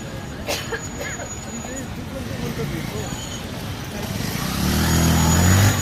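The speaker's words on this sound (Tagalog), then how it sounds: "Grabe traffic ah." Steady road traffic rumble from cars and motorcycles in heavy congestion, continuous and fairly close, swelling louder near the end, with faint crowd babble in the background.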